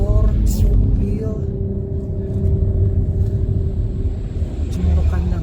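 Steady traffic rumble on a busy mountain pass road near Cemoro Kandang at 1800 m, cars and motorbikes droning past continuously with a brief louder engine whine, fairly close and constant throughout.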